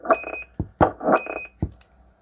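Two short bursts of electronic beeping tones from a radio, each followed by a brief click, with short pauses between them.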